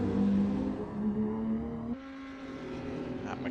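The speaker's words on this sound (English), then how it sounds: "That McLaren sounds really nice." A McLaren GT4 race car engine roars in a racing video game at Daytona, a sustained high rev that holds steady then drops sharply as the gear shifts, continuing loud and unbroken.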